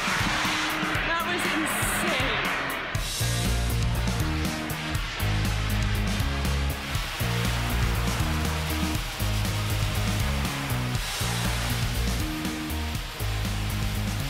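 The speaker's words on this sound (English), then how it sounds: "He uses a launch platform for takeoff to minimize debris blowback. And it quickly gets really loud." Loud, steady roar of a Flyboard Air jet-powered hoverboard taking off from a launch platform, a constant broadband blast that fills the whole clip, with a rhythmic low pulsing beneath it.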